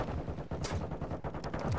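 Rapid gunfire from a first-person video game shooter, bursts of muffled shots crackling close and fairly quiet for under two seconds, no speech.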